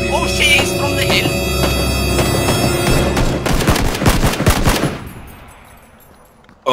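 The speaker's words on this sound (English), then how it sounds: "Oh no, we are taking fire again." Heavy bursts of automatic gunfire and rapid shots in a World War I western front video game, loud and close, clustering into a dense volley before cutting off into a quiet decaying tail.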